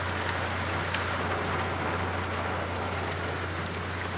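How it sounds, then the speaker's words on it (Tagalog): Heavy rain in Mandaue City, Cebu pours down in a dense, steady hiss, with a low constant hum underneath and no voices. "Lakas ng ulan. Oh, patak ng ulan."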